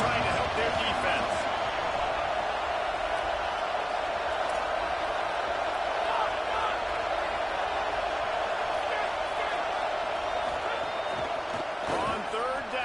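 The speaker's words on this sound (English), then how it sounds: "Listen to this crowd just shaking the corners of this place, trying to help their defense." A packed stadium crowd roars steadily at a football game while the defense is on the field, a dense, loud, unbroken wash of noise with an announcer's voice faintly over it.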